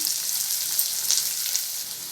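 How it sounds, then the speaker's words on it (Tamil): Sliced big onion fries with salt in a hot pan for a hotel-style snake gourd kootu, giving a steady, bright, close sizzle that holds evenly throughout with no stirring or talking. "இந்த டைமில் நீல வாக்கில் கட் பண்ண ஒரு பெரிய வெங்காயத்தை இதோடு சேர்த்துக்கிறேன்"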